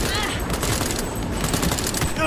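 Rapid automatic gunfire in Cyberpunk 2077, a dense continuous burst of loud close shots with steady rattling rhythm and some game sounds layered over it.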